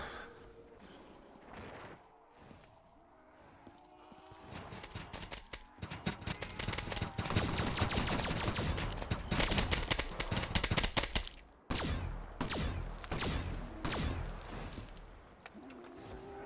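A BRM machine gun in Call of Duty Black Ops 3 zombies mode, firing in long rapid bursts of sharp, loud shots with brief pauses, preceded by quieter game sounds.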